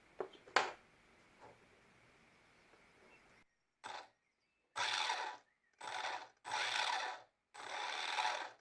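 A Losi Mini Eight 1/16 RC car's electric motor on a Turnigy Trackstar 30A ESC spins up in five short whirring bursts of throttle separated by silences, following a few faint handling clicks.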